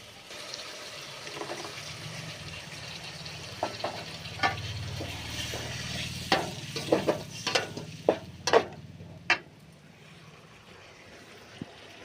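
Thick tamarind extract poured into a simmering village-style garlic and black pepper curry, giving a steady bubbling sizzle broken by several sharp splashes and clatters near the pan. No one speaks.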